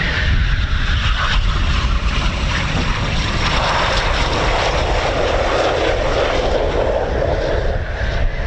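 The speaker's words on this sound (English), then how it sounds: "The Eurofighter Squadron Typhoon is also coming on Bravo as well" A Eurofighter Typhoon FGR4 jet roars through the night sky at an RAF Coningsby evening flying show, a loud, continuous broadband rumble that holds steady throughout.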